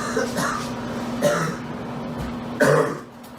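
A man coughs and clears his throat in three rough bursts spread over a few seconds, close and fairly loud, with a steady low hum underneath and the last burst the strongest.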